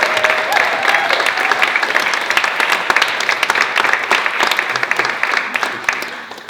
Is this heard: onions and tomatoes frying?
no